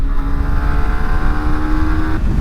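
Yamaha MT125 or R125 125cc motorcycle from 2023, engine revving steadily while riding, a loud, close, continuous droning hum that drops off near the end as the rider shifts gear.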